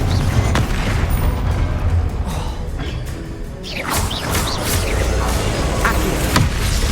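The Confringo explosion spell in Hogwarts Legacy sets off booming blasts and crashing impacts over a loud, rumbling game soundscape, with a few sharp hits near the end.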